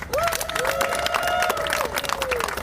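Election-night crowd applauding the congressional candidates: a steady wash of clapping and cheering with a voice calling out over it, continuous throughout.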